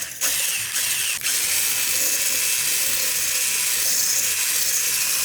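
A powerful electric mixer whisks brownie batter, giving a loud, steady, high-pitched motor whine and hiss with a brief stutter at the start, running alone without talk.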